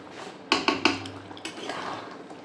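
Spoon scraping and clinking against a pan as kasuri methi is stirred into a katla fish kaliya curry, a few sharp metallic taps near the start, then softer stirring noise up close.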